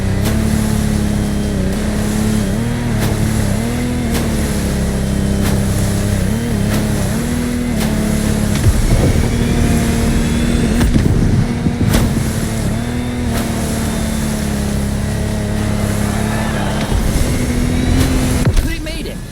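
Lamborghini Technomar powerboat racing across water in The Crew Motorfest, its engine droning loud and steady throughout with surges and revs, under an announcer's voice.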